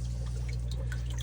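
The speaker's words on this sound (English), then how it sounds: "you'll have that nice looking waterfall sometimes, but the water is pushing through" Water pouring through a homemade intake filter tube, a steady close rushing splash like a small waterfall with a constant low hum beneath.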